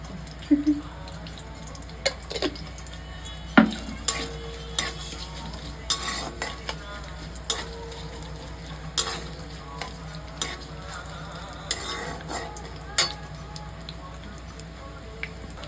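A small amount of cumin seeds crackles in hot oil for a paneer curry, a steady close sizzle dotted with sharp pops and scattered clinks of a spoon against the pan, with no clear speech.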